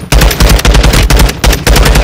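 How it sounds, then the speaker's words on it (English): Rapid automatic gunfire from the video game Call of Duty: Modern Warfare II, loud bursts of shots in close succession with brief gaps, filling the whole moment without talk. "They're shooting at us."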